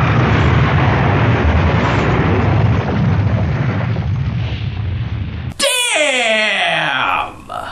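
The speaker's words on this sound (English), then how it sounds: "Maki shows up to save the day by blasting him with a fucking rocket launcher" A rocket launcher blast in an anime lands as a long, loud, roaring explosion that rumbles for several seconds. It cuts off abruptly into a sharp metallic ringing tone.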